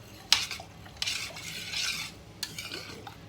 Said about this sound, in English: In it goes, and give it a stir.